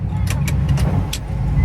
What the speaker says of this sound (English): Getting ready to go for a ride on a monster truck.